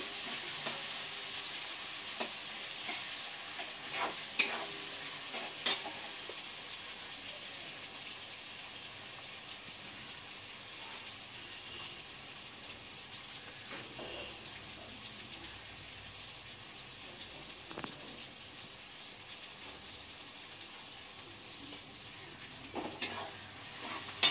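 Punjabi-style chicken masala with capsicum fries on medium heat, a faint, steady sizzle with occasional soft clinks and scrapes of stirring scattered through a long stretch, with no one speaking.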